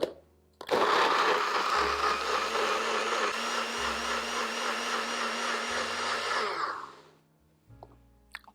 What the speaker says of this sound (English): Now we're just going to blend this up again till all of those dates are completely pulverized.